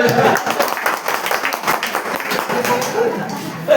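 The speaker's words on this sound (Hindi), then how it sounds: "एक जोरदार ताली हो।" Audience clapping at a talk, a loud burst of many hands that stays fairly dense, mixed with voices talking over it.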